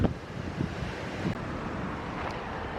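Strong wind buffets a seashore beside a camper trailer, a steady rushing roar with microphone wind noise and a low wash of waves underneath, broken by brief gusty thumps.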